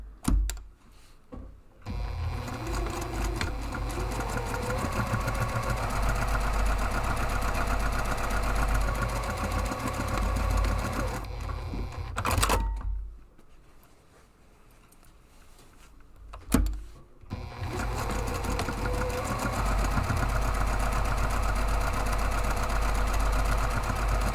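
A sewing machine stitches a large padded camera bag, a loud, steady, close mechanical hum that stops briefly in the middle and then starts again, with no talking.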